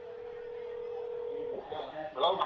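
A phone line gives a steady dial tone that breaks off into a short run of keypad dialing beeps, close and clear, with faint voices in the background.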